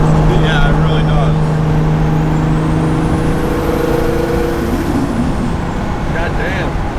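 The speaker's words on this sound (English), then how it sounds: "it just sounds like a diesel truck because the turbo is always on" A 1JZ-swapped Nissan S13 with a turbo drones steadily at cruising speed with a deep, diesel-truck-like hum, loud and continuous under road noise, while people talk inside.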